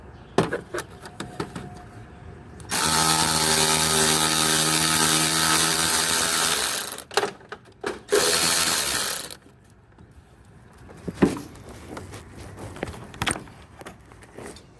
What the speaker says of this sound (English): So I just removed those 4 bolts.